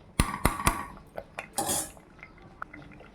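A metal lid is set onto a cooking pot of white sorghum rice, giving three quick, bright clinks close by, followed by a softer rattle and a faint tap. No one talks.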